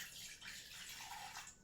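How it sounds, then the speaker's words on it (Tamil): Water poured from a tap or vessel into a glass while preparing an Ojas health drink, a soft, brief splashing trickle heard faintly and close, with no talking. "தண்ணி விட்ருக்கேன்."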